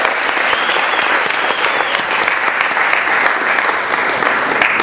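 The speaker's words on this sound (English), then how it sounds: "So please give yourselves another big round of applause." A large audience at a BWDM 2009 event breaks into loud, sustained applause, a dense, close wall of clapping that holds steady throughout.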